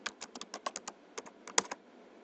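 A computer keyboard typing out a new folder name in Windows 7, with a steady run of quick, close keystrokes and brief pauses between bursts, heard without talking.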